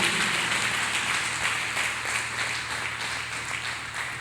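A church congregation claps hands in praise, a dense, continuous wash of many hands that stays loud and even throughout with no speech over it.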